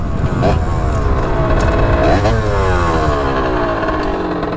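A Barode moped pushed to 75 cc revs hard and loud nearby, its engine note sweeping up and down through repeated throttle bursts in a steady roar, with faint voices in the background.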